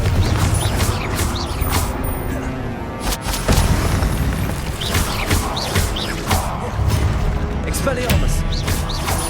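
Repeated fire spell blasts boom through a Hogwarts Legacy duel, several bursts over continuous loud combat noise, with a voice shouting spell names over the top.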